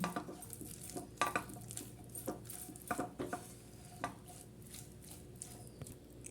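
Mashed potato is stirred into a broccoli cutlet mixture in a pan with the flame off, making quiet, repeated scraping and tapping strokes of a spoon against the pan in an uneven rhythm.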